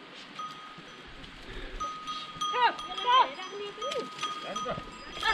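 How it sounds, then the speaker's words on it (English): Goats and cows wandering out along a Himalayan trekking trail between Ulleri and Ghorepani, with bleating calls rising over a steady outdoor background and a faint ringing tone like a cowbell; people talk nearby at moments. "The goats and the cows need to eat."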